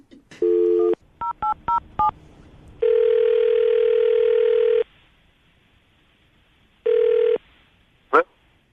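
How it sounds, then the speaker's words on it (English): A series of touch-tone beeps as a phone number is dialed: a long tone, a quick run of short beeps, then more long tones, ending with a brief chirp. "I'm going to dial the phone number right now."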